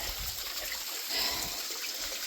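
Water rushing and trickling steadily at a waterfall, a continuous close hiss of flowing water with no voices.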